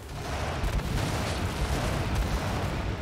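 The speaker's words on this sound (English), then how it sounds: "they're like mega missiles" Heavy, rumbling blasts of missile explosions in Gears of War 5, a dense, booming barrage with deep low-end impacts rolling continuously at high volume.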